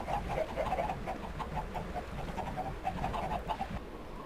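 Soft clucking and cooing birdlike calls from video game chickens repeat steadily over a busy, dense background, like chickens murmuring close by.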